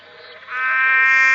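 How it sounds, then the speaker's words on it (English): A long-footed frog calls once from the Kimberley wet season, a loud, close, drawn-out buzzing note that swells and holds steady for about a second. "here's our long-footed frog"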